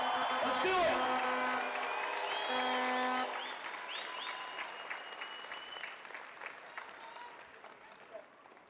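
Basketball fans in an arena applauding the home team, loud clapping and cheering that swells at first and then gradually thins and fades, with a voice over a PA at the start.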